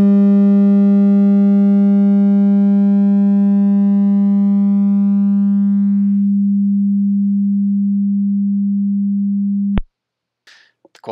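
A steady low electronic tone hums for nearly ten seconds, its bright overtones fading first as it slowly dies away before cutting off, followed by faint clicks.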